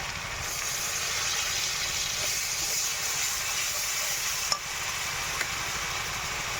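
Ginger paste and onion paste sizzle in a hot pan of oil while being stirred for a quail egg biryani, a steady, even hiss with a couple of faint utensil taps.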